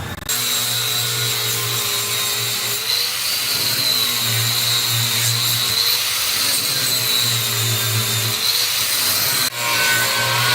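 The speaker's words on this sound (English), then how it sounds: "he's grinding down all the welded in spots for the toilet" Grinder working down spot welds on a car body being stripped for weight savings, a steady loud abrasive whine and rasp running continuously close by with slight pitch shifts, no talk over it.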